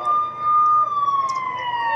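A siren wails at a team roping rodeo event, a steady loud tone sliding slowly downward in pitch and holding for the whole stretch, with faint crowd noise beneath.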